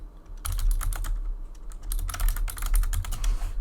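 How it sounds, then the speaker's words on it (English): Fingers type on a computer keyboard in quick irregular bursts of clicking keys, close and clear, with a brief pause between flurries and no talking. "I have issues typing"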